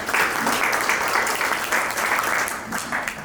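Loud, dense applause from a seated audience at a client seminar, continuous clapping from many hands filling the room without letup.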